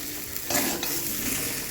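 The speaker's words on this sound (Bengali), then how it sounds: "দিয়ে ভালো করে মশলাটার সঙ্গে কষিয়ে নেবো" Spices with turmeric and roasted ground coriander and cumin being stir-fried in a pan, a steady low sizzle with soft scraping from the spoon, close and continuous, no talking.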